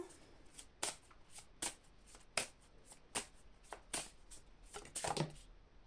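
A deck of cards is shuffled repeatedly close up, with a series of sharp riffling bursts spaced about every half second and a longer flurry near the end, quiet and with no talk over it.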